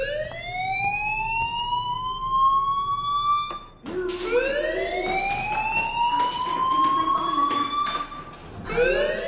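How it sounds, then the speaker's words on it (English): A fire alarm rings in a video game, sounding as a loud rising siren-like wail that sweeps upward twice across several seconds, with a brief dip between the sweeps and no talking. "Hey, do you hear that fire alarm?"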